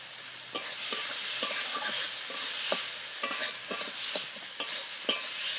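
Salted tomatoes sautéing for a vegetable dal, with continuous sizzling and repeated stirring scrapes and clicks of a spoon against the pan, close and steady.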